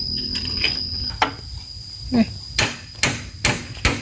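Hammer blows on a homemade wooden clothes-drying rack, about eight sharp close strikes at an uneven pace over faint background noise and insect chirping.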